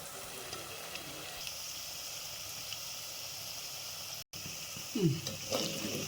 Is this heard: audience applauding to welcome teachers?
no